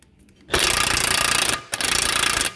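An impact gun with a 21mm socket rattles off the track rod end nut on a BMW, two loud close hammering bursts of about a second each with a brief gap between them.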